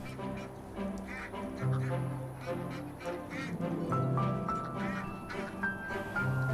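Ducks and turkeys in a backyard hobby poultry coop, with loud, busy quacking and honking calls overlapping one another close by, continuing throughout.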